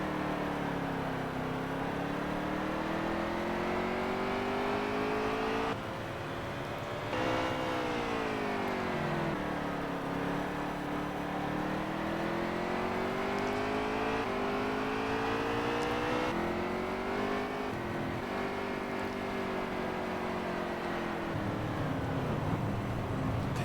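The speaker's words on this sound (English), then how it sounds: "as the cars are going to split him down the front stretch" Race cars in the video game NASCAR Heat 3 roar down the front stretch, a continuous loud engine drone whose pitch rises and falls as the pack speeds past, with no talk over it.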